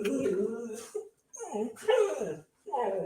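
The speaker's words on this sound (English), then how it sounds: "there's a dog outside." A dog whimpers and yips outdoors in short, high bursts separated by brief pauses, moderately loud against a quiet background.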